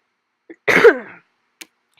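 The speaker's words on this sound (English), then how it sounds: "Sorry for that cough there." A single short, sharp cough close up, preceded and followed by small clicks and silence.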